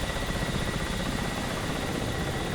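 Helicopter in the video game DCS World: a steady, dense rotor and engine drone, continuous and loud throughout with no talking.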